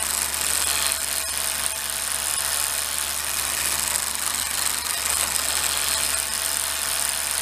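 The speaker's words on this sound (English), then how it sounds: "Right now this motor is, sometimes it's maxed out at top speed giving full torque to make corrections." A small electric motor on a self-balancing gyroscope two-wheeler with a horizontal gimbal mount whirs and buzzes continuously, running at full torque while making corrections, with faint rattling ticks and no speech.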